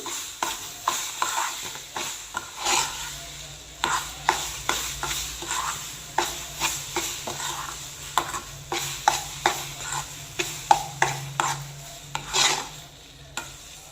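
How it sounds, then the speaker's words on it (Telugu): Semolina being stirred with ground mango pulp for mango rava kesari, a steady series of close scraping and stirring strokes with faint sizzling beneath, no talking. "ఇది కూడా వేసుకొని బాగా మిక్స్ చేసుకుందాం"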